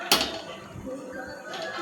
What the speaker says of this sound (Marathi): तवा ठेवला.